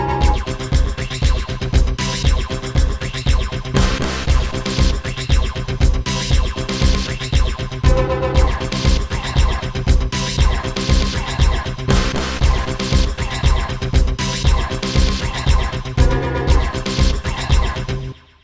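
Sliced drum loops from the Segments iOS slicer app spread over eight channels with effects, EQ and panning, a loud, steady, punchy beat throughout that cuts off at the end; no talking.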